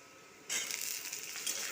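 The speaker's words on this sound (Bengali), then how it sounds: "এই যে করলাগুলো দিয়ে ভেজে নেবো" Bitter gourd pieces dropped into a pan of fried onions, a sudden sizzle that bursts up and then holds as a steady close crackle, with no talking.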